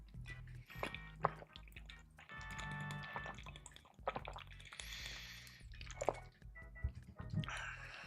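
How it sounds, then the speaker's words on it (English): Close, wet dripping and squishy trickling of water running down a person's neck, intermittent and soft, with small splashes and rustles scattered throughout; no one speaks. "The water going down my neck."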